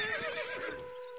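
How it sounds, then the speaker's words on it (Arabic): Horse neighing in the Stronghold Crusader video game, a single close whinny with a rising and falling pitch, followed by a brief settling tail. "الحصان سريع. اركب مثل الريح."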